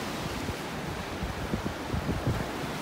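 Ocean surf on the beach at North Naples, Florida, on a morning walk: a steady, broad wash of waves with wind buffeting the microphone, continuous and fairly close, with no talking.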